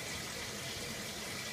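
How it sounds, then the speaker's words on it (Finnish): Tap water running steadily into a pot in a kitchen, a continuous close rushing wash with no break and no talk over it. "Raanosta vettä näin."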